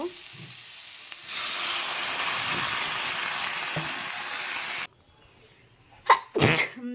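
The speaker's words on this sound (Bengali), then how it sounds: "তো এবার দেখো আমি কিন্তু জলটা দিয়ে দেব" Water poured into a hot pan while cooking rohu fish curry with helencha greens sets off a loud, steady sizzle and hiss of steam that lasts several seconds, then cuts off, followed by brief clattering and stirring.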